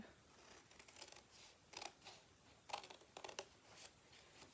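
Scissors snip along a straight line in a paper soap gift box template, a few quiet, crisp cuts in uneven bursts against a soft background.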